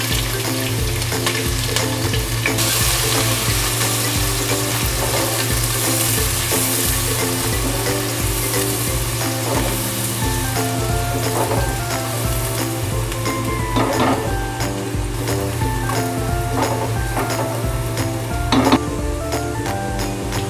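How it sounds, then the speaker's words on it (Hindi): Finely chopped onions fry in hot oil in a pan, a constant loud sizzle with occasional stirring clinks and scrapes of utensil on metal, close up and without talk. "थोड़ी देर ऑयल को हम गर्म होने देंगे, फिर हम इसमें बारीक कटी हुई प्याज डालेंगे।"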